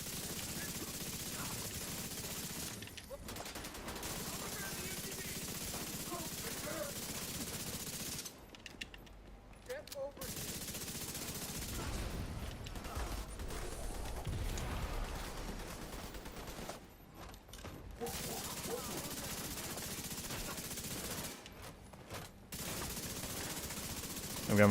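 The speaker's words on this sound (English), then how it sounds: "That minigun is not messing around." Minigun in the Manhunt video game: long, sustained bursts of rapid automatic fire, fairly quiet in the mix, broken by a few short pauses over about twenty-five seconds of continuous shooting.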